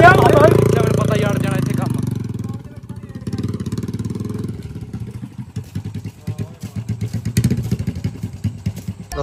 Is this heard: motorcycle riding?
yes